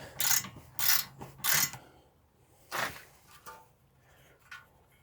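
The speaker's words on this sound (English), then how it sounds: "Next, we have 18mm nut at the bottom here. We're gonna undo this one." A ratchet undoes an 18mm nut at the bottom of a VW Sharan 7N tie rod, giving several sharp, close rasping clicks in short bursts, then a few fainter ones, with quiet gaps between.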